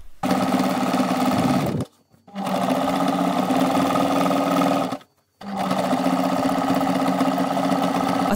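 A sewing machine topstitching a decorative seam on a boho bag, running in three steady, loud, continuous humming stretches with two brief stops in between.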